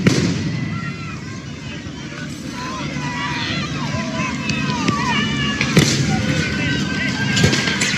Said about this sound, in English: Were they firing tear gas? Well, this is tear gas. Those were rubber bullets.